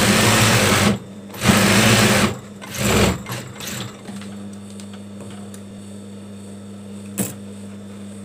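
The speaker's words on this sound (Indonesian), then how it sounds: "Lalu yang sebelah sini juga kita kasih jahitan jigjag." A sewing machine stitches a zigzag seam on a baby blanket in three close, loud bursts of rapid whirring, each a second or less, before falling to a faint hum with a brief final tap.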